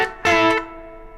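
Electric guitar in a solo, a single picked note that rings briefly and is then cut short by a quick right-hand stop, leaving a faint fading tail.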